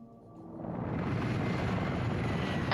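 A helicopter in a military video game drones steadily nearby, a broad loud rotor-and-engine rumble that swells slightly and holds constant, with no voices.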